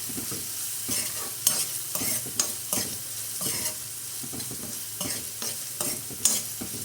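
Tempering of curry leaves frying in oil while being stirred, a close continuous sizzle punctuated by rhythmic spatula scrapes and taps, no one speaking.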